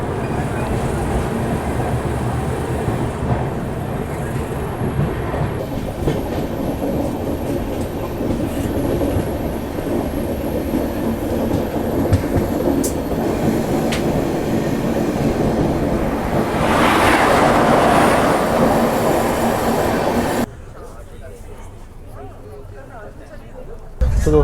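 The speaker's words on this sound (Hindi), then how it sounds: "अभी हमारी जो ट्रेन है वो लगातार 130 किलोमीटर पर आवर पर चल रही है।" The Bhopal Shatabdi Express rolls along at about 130 km/h with a steady, loud rumble and rhythmic clickety-clack of wheels. Voices can be heard under the noise, which drops sharply near the end.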